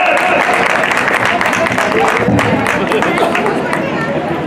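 A crowd at a Buddha Jayanti procession in Agra applauds loudly and continuously, dense clapping blended with cheering and babble of many voices nearby.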